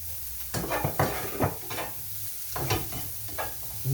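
Red onions and cauliflower cooking in a pan, a close sizzle broken by several scraping stirs of a utensil against the pan, moderately loud with no voices.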